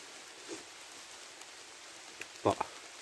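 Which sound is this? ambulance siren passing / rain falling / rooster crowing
rain falling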